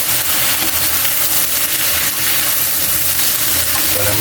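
Cream hitting a hot frying pan of shrimp, garlic and onion gives a loud, dense, close sizzle that holds steady with stirring scrapes and no pauses.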